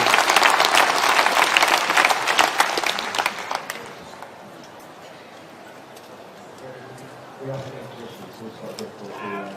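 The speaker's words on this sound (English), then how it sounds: "When the crowd stop clapping, that's when you start speaking." A conference hall crowd applauds a speech by a politician: loud, dense clapping for about four seconds, fading into quieter room noise, with a voice talking faintly afterward.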